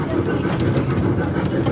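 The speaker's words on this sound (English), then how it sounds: "just going around Portsmouth on a little choo-choo train" A small tourist train rolls around Portsmouth with a steady, loud rumble and a rattle of wheels, running continuously and heard close at hand.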